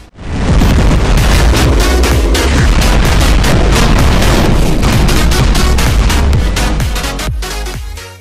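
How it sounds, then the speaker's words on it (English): An Orbeez gun fires in a video game on the WR test server, a loud, rapid barrage of sharp booming shots in quick succession that runs nearly nonstop before cutting off. "This is the Orbeez gun."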